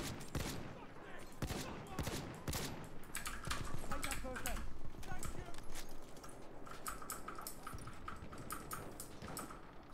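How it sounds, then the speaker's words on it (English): Rapid bursts of gunfire from a weapon in the video game Battlefield 1, loud sharp shots in quick repeated strings over busy game noise, with a player talking over it. "I love this gun! It just sounds so nice as well, it's great."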